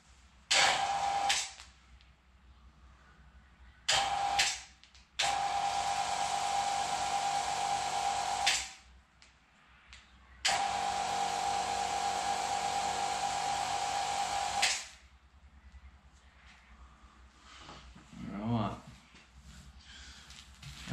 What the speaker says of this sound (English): I'll probably end up pulsing the vacuum pump just so I can pull a bit of vacuum down